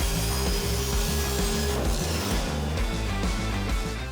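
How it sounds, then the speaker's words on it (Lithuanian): A hand saw cuts through wood while an abandoned garage is being cleared out, with steady, loud, rhythmic back-and-forth rasping strokes throughout. "aš tai norėčiau panaudoti jau šitą pjūklą ir persipjauti šitą visą šakarmakarą"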